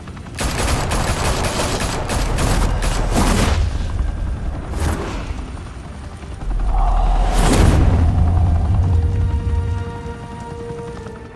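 Heavy gunfire in the Batman Telltale game, episode Realm of Shadows: loud rapid bursts of shots with booming impacts, a dense volley early, then a second sustained barrage after a brief lull, with no voices.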